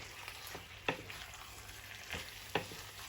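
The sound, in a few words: stirring spaghetti with veggies and meat in pan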